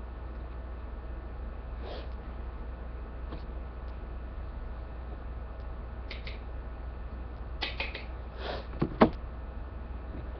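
A person sniffles a few times, faint and close, with short soft sniffs scattered over quiet background noise and a louder sniff near the end.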